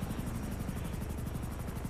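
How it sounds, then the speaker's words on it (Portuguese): A helicopter hovers nearby, its rotor beating in a steady, fast chop over a dense, loud engine roar that holds constant throughout. "Só quem que é no helicóptero?"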